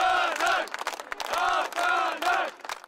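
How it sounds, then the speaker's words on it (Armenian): Protesters outside the Constitutional Court in Armenia chanting a rhythmic slogan in loud, repeated group bursts, close and forceful, with cheering and clapping mixed in between the chants. "տոնում են իրենց բնորոշման առաջին փոքր հաղթանակը՝ վանկարկումներով, ծափահարություններով, միմյանց շնորհավորելով"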